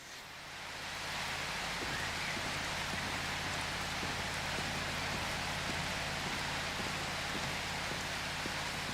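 Steady rain in the video game Prologue: Go Wayback!, a dense, even hiss of falling rain with scattered faint drop ticks, fading in at the start and then holding constant, with no talking.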